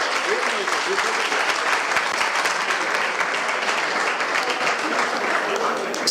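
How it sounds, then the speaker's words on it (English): An audience at a live hackathon event claps in a sustained, full round of applause, loud and continuous throughout with no breaks, the many hands blending into a dense wash. "Guys, please give her a huge round of applause."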